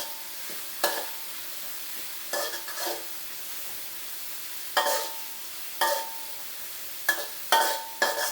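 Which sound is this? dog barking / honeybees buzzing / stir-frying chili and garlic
stir-frying chili and garlic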